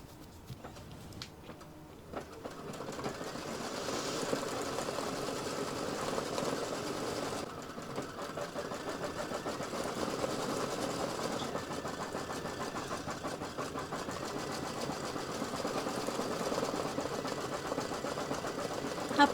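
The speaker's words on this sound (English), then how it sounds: "let's get that little star stitched up there" An embroidery machine stitches a small star onto white felt for an in-the-hoop Christmas gift tag, a steady mechanical whir that starts after a couple of seconds and runs on continuously.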